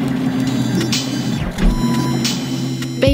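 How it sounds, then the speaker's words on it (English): A 3D printer runs with a steady mechanical hum and whirring motors, a constant drone with a few brief higher swishes, loud and close with no talking. "it's a 3D printer where as many parts as possible are printed by the machine"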